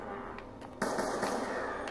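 A single sharp report from an SMR semi-automatic rifle in Call of Duty Black Ops 2 Zombies cracks out partway through, followed by a noisy, ringing tail over quiet game ambience.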